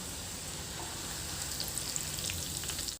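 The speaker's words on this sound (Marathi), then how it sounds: "छान खुळखुळ आवाज येतोय तळल्या गेलाय आपला कढीपत्ता" Curry leaves crackle and sizzle steadily in hot oil, a dense, even frying hiss with small pops, close up and alone.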